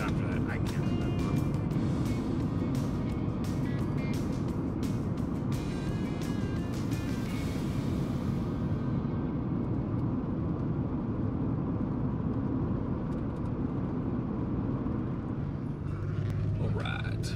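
A 1991 Oldsmobile Ninety-Eight Touring Sedan cruising, heard from inside as a steady low road and engine rumble with a brief whine early on, continuous and moderately loud throughout.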